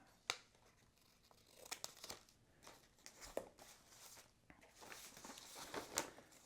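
A small corner being cut off a folded sheet of paper, with close scissor snips, paper crinkling and rustling handling noises throughout, faint and intermittent.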